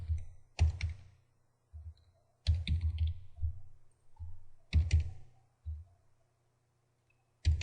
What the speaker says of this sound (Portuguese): tenho que digitar a data novamente